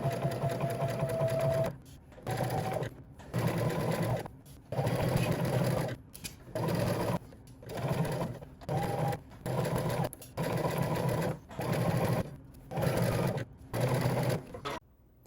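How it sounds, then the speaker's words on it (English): A sewing machine topstitches one inch from the edge of a Simplicity S3140 top, running in repeated bursts of steady stitching a second or two long, separated by short pauses, loud and close with no talk. "we can go ahead and top stitch 1 inch from the edge."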